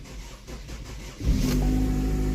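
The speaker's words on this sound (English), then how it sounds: "So we're going to start this thing up. It's going to take several cranks to get it primed" A Chevy Malibu, just fitted with a new high-pressure fuel pump, cranks with a few quick, uneven turns before catching and settling into a steady, close idle.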